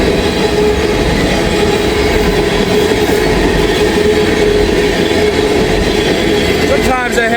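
Empty ethanol tank cars rumble steadily past close by, a continuous loud roll of freight wheels with faint squeal and clatter throughout, no talk over it.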